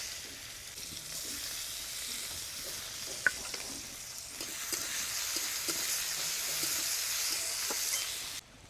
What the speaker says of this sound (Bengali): এবারে দিয়ে দেবো পেঁয়াজ কুচি